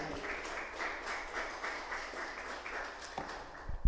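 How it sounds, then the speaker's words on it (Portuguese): A church congregation applauding, a dense rippling wash of many hands clapping at moderate distance, steady for a few seconds with a faint knock near the end. "Será que você pode aplaudir o nome do Senhor?"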